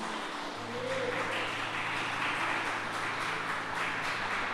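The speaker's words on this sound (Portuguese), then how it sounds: "Você pode dar um louvor de palmas ao Senhor?" A church congregation claps their hands in praise at a sermon, a dense, steady wash of applause filling the space for several seconds, with a low hum underneath.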